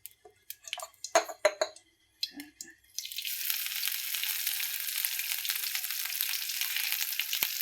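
Spices hit hot oil in a kadhai for tempering: a few light clinks and taps, then a sudden loud, steady sizzle that carries on unbroken to the end.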